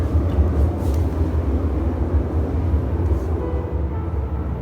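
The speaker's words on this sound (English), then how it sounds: "You can hear the L train behind me." A low, steady rumble of a Chicago L elevated commuter train rolling past at a distance, heard from Graceland Cemetery, broad and continuous with no voices.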